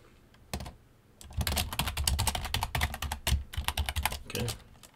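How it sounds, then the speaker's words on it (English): Rapid keystrokes on a computer keyboard enter a password, an isolated tap or two followed by a quick, dense burst of close clicks with short pauses. "So you do have to put your password in."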